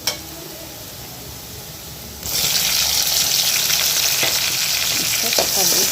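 Onions and tomatoes for a chicken pepper fry sizzle in a pan, a quieter frying hiss that jumps abruptly louder partway through as the tomatoes go in, with stirring scrapes and no talking.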